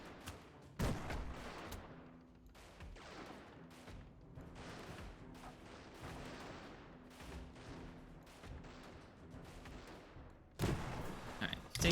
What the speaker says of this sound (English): taking some bullets on the way here, but they've just been shooting our armor plates